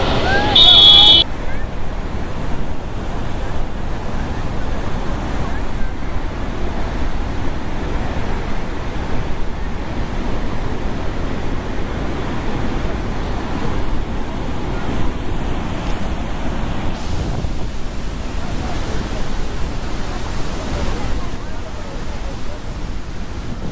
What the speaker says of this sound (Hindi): यहाँ पर देखिए कैसे गेट खुले हुए हैं, पानी की स्थिति बिल्कुल बौछार है